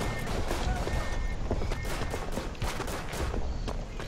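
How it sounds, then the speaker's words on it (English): Dense video game gunfire in a competitive team match, rapid overlapping shots and bursts crackling loudly and continuously with no clear pauses. "Laban using the pistol"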